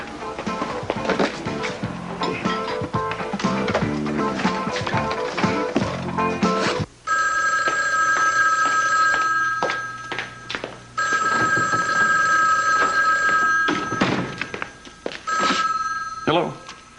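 Old-style telephone bell ringing in a TV soap opera scene, repeated trilling rings in bursts separated by short gaps, loud and close, with some talking and clatter early on.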